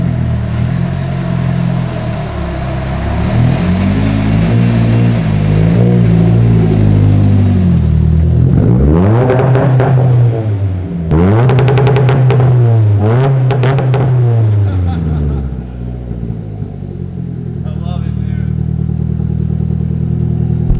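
A custom car engine idles loudly nearby, then revs up sharply in a few quick bursts that climb and drop back before settling to a steady idle.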